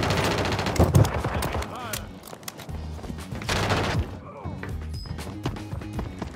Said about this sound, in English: I can pull up my SMG now